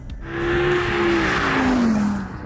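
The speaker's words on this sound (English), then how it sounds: "So this engine really screams." Audi R8 V10 Plus Spyder engine screaming at high revs, a loud sustained wail that rises, holds, then drops in pitch as it upshifts, close and unaccompanied by talk.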